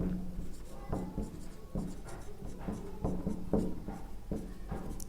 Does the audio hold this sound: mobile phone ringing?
no